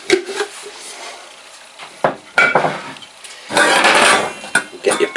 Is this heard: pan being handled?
yes